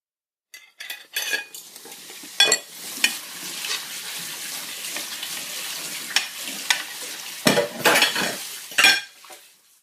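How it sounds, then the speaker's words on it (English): Dishes being washed by hand, with cutlery and plates clinking and clattering in sharp irregular bursts over a steady hiss of running water, close by and with no talking. "So I was just doing the dishes"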